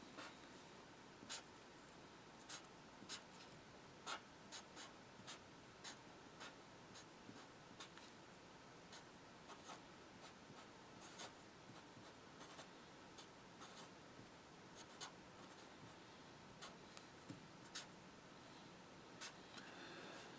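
Pen or marker drawing a chemistry molecule diagram by hand on paper, a long run of close, faint scratchy strokes with frequent small taps and pauses, no talking.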